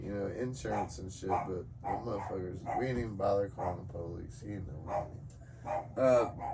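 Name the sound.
dog barking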